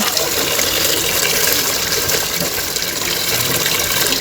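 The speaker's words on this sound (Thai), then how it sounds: "ล้างน้ำให้สะอาดเลยค่ะ ล้างจนน้ำใสเลยนะคะ" Mackerel rinsed under running water, a steady close gush of tap water splashing continuously throughout with no pauses and no speech.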